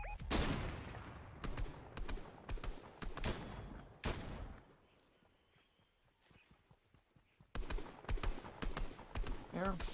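Video game gunfire comes in rapid, loud bursts of shots, drops away to a quiet stretch in the middle, then returns as another close flurry of fire.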